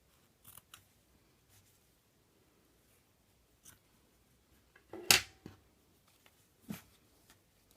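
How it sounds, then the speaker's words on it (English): Scissors snip through a strip of white felt in a quiet room, a few soft scattered cuts followed by one sharp close snip and a fainter one after. "cut another strip of the white felt"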